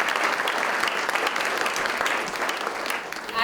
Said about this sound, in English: So please join me in thanking them.